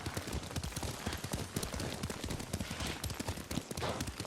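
Rapid, steady hoofbeats from a galloping horse in the Ghost of Tsushima video game, loud and continuous with dense thudding clip-clop across the whole stretch, no voices.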